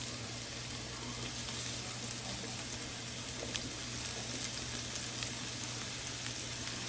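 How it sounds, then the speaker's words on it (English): Onions frying in oil in a pan for a cheesesteak: a continuous, even crackling sizzle held close and steady from start to finish, with no voices. "we're gonna start everything off by starting to cook my onions"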